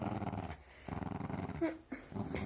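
A Jack Russell terrier growls and grumbles in rough, breathy bursts, close by, with brief pauses between the low rumbling snarls.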